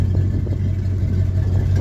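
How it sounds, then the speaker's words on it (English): Ford F750 truck engine running with an exhaust leak, a steady, loud low rumble heard up close with a slightly uneven puffing texture and no speech. "It's got an exhaust leak somewhere over here."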